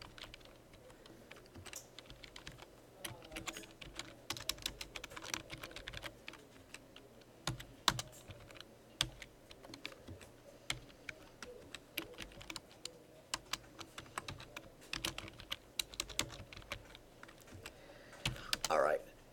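Rapid, irregular keystrokes on a computer keyboard during a programming class on arrays, with clustered clicks and short pauses at a steady, moderate level, close by with no talk.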